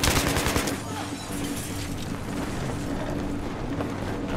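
Automatic gunfire from a weapon in Battlefield 3, a heavy burst at the start followed by sustained loud rattling shots and battle noise throughout.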